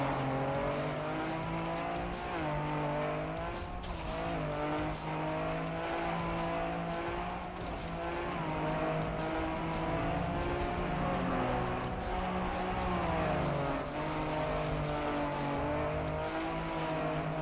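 A rally car engine in the video game Trackmania drones and revs continuously, pitch sliding up and down through gear changes, with occasional tire noise underneath.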